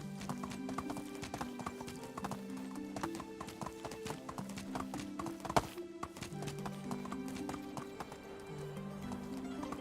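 Rapid, steady clip-clop of a galloping horse in the medieval survival game Medieval Dynasty, with continuous drumming hooves and a faint whinny under a gentle background soundtrack.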